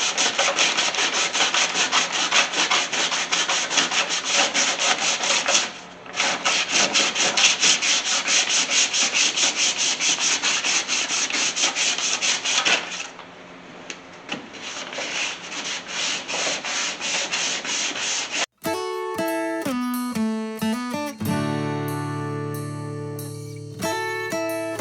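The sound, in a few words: hand sanding body filler on 1981 Chevy C30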